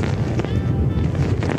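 Strong hurricane wind roars and buffets the microphone in rough, continuous gusts, a low rumbling rush with brief surges.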